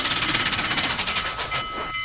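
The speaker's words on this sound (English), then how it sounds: "this train is so loud that I cannot able to be hearing this for a while" A loud train passing in the RO-Scale Rails video game, a rapid, rhythmic pounding that is strong at first and then fades into a steady rumble with a high tone.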